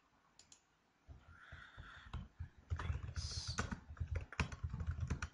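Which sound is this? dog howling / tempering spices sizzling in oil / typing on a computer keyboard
typing on a computer keyboard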